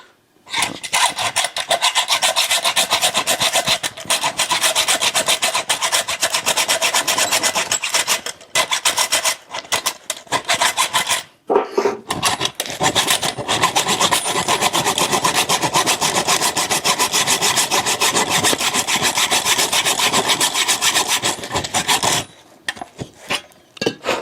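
An old part held in a small tabletop vise, from an Eames rosewood lounge chair, is sawn off with steady, loud back-and-forth rasping strokes that continue almost nonstop, broken by a couple of brief pauses.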